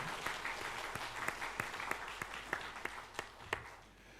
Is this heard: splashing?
no